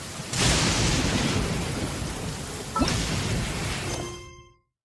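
Video game rain hisses steadily while thunder rumbles and cracks twice, a deep roll fading out abruptly at the end.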